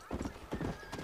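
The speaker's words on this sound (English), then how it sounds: "Are you ready to get run over by a horse?" Horse hooves clip-clop in the Western video game Red Dead Redemption, two quick clusters of muffled thuds close by over a low game rumble.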